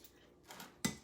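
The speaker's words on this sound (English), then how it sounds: "I'm just chopping up our grilled chicken" Grilled chicken is chopped in a small batter bowl with salad choppers, giving a few faint scrapes followed by one sharper clack of blades against the bowl.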